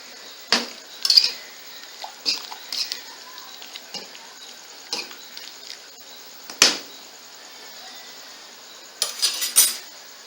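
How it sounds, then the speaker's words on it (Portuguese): Pasta cooks in a pot on the stove while a utensil stirs it, giving scattered sharp clinks and scrapes against the metal pot over a quiet background hiss. "Aumentar o fogo, que eu tava baixo. Aumentar. Mexer aqui um pouco no macarrão. Deixar cozinhar."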